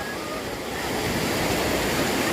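A river rushes steadily past a riverside camping deck in Pangalengan, a stretch used for rafting, with a continuous broadband roar of flowing water and no breaks.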